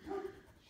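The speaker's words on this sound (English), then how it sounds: "apologies for the barking in the background" A single short Dalmatian bark, fairly faint and in the background.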